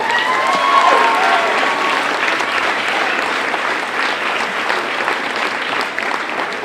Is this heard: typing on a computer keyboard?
no